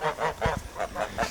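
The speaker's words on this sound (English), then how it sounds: "These geese live in the pasture, in the back pasture and along the creek" Geese honking repeatedly in a back pasture near a creek, about six loud, close calls in a steady rhythm with no talking.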